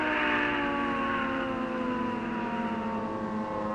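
Air raid siren from a civil defense record, a steady wailing tone that slowly sinks in pitch over a rumbling background, continuous and fairly loud with no voices.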